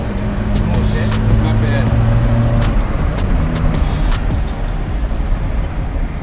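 A 1.6-litre overhead-cam car drives along, its engine hum and road rumble steady and close, with faint ticking and rattling over it while occupants talk briefly.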